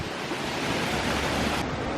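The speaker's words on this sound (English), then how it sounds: "And this goes down to that other waterfall." A waterfall at the University of Minnesota Landscape Arboretum roars steadily, a broad continuous hiss with no breaks, close and loud throughout.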